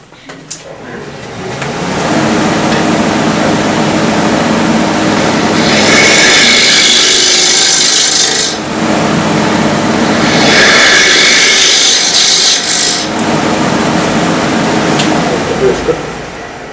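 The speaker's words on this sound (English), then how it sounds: "You can do a scraping cut like that" Steady scraping cut on a wood lathe shaping the underside of a footed wooden bowl, a continuous loud hiss-like rasp swelling in two long passes over the spinning workpiece, with a brief pause between them.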